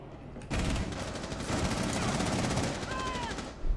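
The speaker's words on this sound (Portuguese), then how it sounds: "Ele tá atirando da parte mais alta do bunker." Rapid bursts of gunfire in Rainbow Six Siege, fast repeated shots rattling continuously for several seconds after a quieter opening, with a brief whistling tone near the end.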